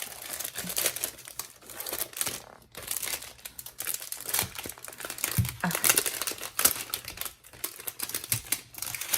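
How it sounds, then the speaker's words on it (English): Plastic packaging crinkled and torn open close up while unboxing Happy Planner stickers, a continuous rustling and crackling with no talking. "Some ASMR for you with all of the plastic."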